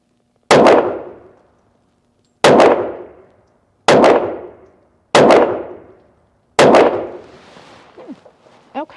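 Five loud, sharp pistol shots from a Browning 10/71 ring out one at a time at uneven spacing, each with a short decaying tail, and faint clatter follows the last shot.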